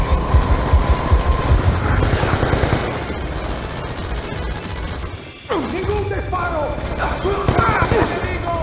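Dense automatic gunfire rattles continuously through a firefight in Call of Duty: Black Ops 2, loud and close, with bursts, impacts and debris, while shouting voices cut in over the shooting.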